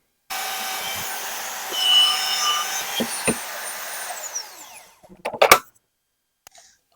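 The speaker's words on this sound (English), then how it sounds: "I'll drill that hole there, I'll match drill those" A power drill bores through metal knife liners for about four seconds, its whine winding down at the end, followed by a few sharp clanks and taps.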